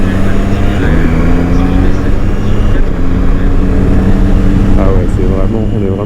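Triumph Tiger Sport 660 motorcycle riding in very cold weather, its engine drone steady and loud throughout with wind rush, and someone talks over it.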